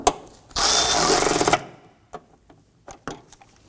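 A power tool snugs down the bolts of a front engine torque strut mount on a 2015-2024 Nissan Murano 3.5L V6, one loud buzzing burst of about a second, then scattered light clicks and taps.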